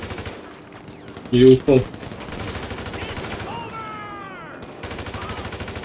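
Two quick bursts of video game gunfire, loud and close, fired into empty space, with a voice talking in French around them.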